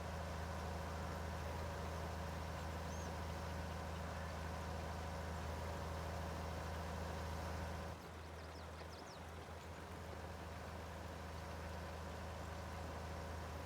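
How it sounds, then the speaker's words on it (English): Tractor engine in Farming Simulator 22 pulling a cultivator on a Wisconsin farm map, a steady low droning hum that holds evenly throughout, briefly dipping and shifting once partway through, with no talk over it. "See if this tractor can pull this."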